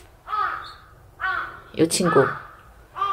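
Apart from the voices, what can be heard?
crows cawing in the morning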